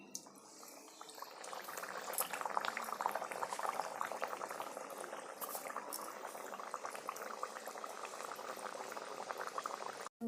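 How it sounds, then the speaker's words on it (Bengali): A spinach paratha frying in hot oil gives a dense, bubbling sizzle that builds and holds steadily, close and fairly quiet, with no talk. "এবারে পরোটাটা আমি তেলে দিয়ে দেবো"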